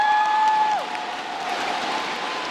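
Spectators at a team badminton tournament semifinal applaud in a steady, moderately loud wash of clapping and crowd noise, opened by a sustained tone that slides downward and fades.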